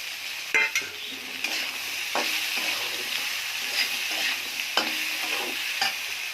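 Chopped vegetables stir-fried in a pan with turmeric, green chillies and salt, a steady oily sizzle broken by repeated scraping strokes of a spatula, close and fairly loud with no voices.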